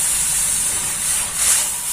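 Water poured into hot roasted semolina (suji) in a pan while making pitha dough, a loud, steady hiss of steam and sizzling, swelling slightly toward the end, with no talking.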